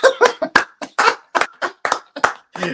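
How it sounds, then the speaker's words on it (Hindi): A quick run of about a dozen sharp hand claps, close and loud, in a slightly uneven rhythm with no voice over them. "जब मेरे कोई ताली नहीं मारता तो मैं अपने लिए ताली मारता हूँ"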